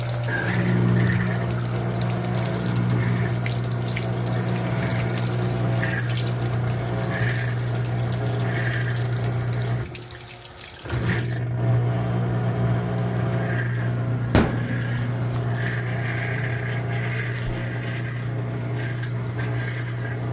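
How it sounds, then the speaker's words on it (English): Amana NTW4519JW2 washing machine pump running during the rinse, a loud, steady hum with water rushing, briefly dipping midway before resuming, with no talking. "That pump sounds like it's on life support."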